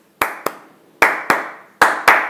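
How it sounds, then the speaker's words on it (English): One person claps their hands six times, sharp and close, in three pairs with short pauses between them, each clap ringing briefly. "Ronak claps his hands 6 times."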